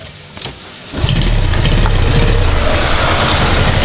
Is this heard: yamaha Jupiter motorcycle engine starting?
yes